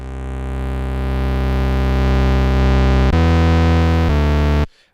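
A Polysynth synthesizer in Bitwig Studio plays a thick, buzzing distorted tone. It holds one sustained note, then steps down to lower notes and cuts off abruptly, loud and alone with no talking.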